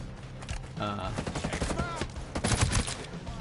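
A short flurry of gunshots in the tactical shooter Ghost Recon Breakpoint, several sharp cracks over a few seconds, moderately loud amid game sound.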